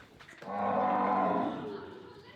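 A cow lets out a single long, low moo of about a second that swells and then trails off, fairly near and on its own, while other cattle are kept nearby.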